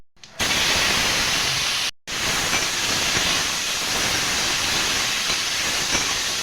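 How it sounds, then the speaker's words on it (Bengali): Loud, dense hissing sizzle as chopped tomatoes hit hot oil with cumin, briefly cut off once, then continuing as a steady roar. "এখন কাটা টমেটোগুলো দিয়ে দেবো"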